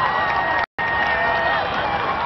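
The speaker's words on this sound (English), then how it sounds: "huge crowds lining the Long Walk watched and cheered as the motorcade brought Meghan Markle to her wedding" Large crowds lining the Long Walk at Windsor Castle cheer as the royal wedding motorcade passes on a sunny day, a dense, steady roar of many voices, broken by one very brief dropout.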